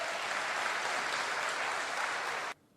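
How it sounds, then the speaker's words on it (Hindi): An audience gives loud, dense applause at an indoor business gathering in India, steady for over two seconds and then cutting off abruptly. "जोरदार ताली"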